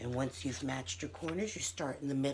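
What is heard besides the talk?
No everyday noise stands out behind the speech.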